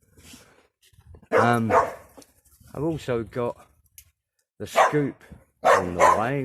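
A dog barks in short bursts while playing with a neighbour's dog, the barks mixed in with someone talking nearby.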